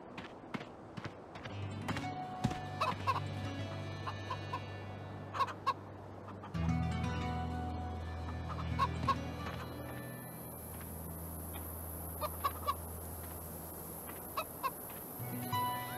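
Chickens cluck repeatedly in the video game Minute of Islands, close and steady over a low humming ambience, with occasional soft thunks and a high tone entering partway through.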